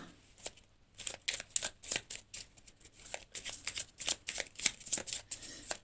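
Tarot cards are shuffled by hand in a quick, close series of crisp riffling flicks and soft slaps, repeated in irregular bursts with no talking.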